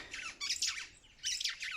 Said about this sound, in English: At the background, those are bird sounds.